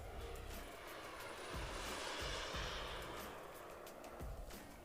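A fixed-wing aircraft at an air show passes through a go-around with its gear down, giving a steady, fairly loud engine roar that swells in the middle and then eases slightly.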